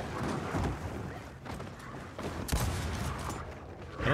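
Gears of War 4 gunfire sounds as dense, rapid bursts of shots amid a busy, loud battle din, with sharper cracks standing out near the end.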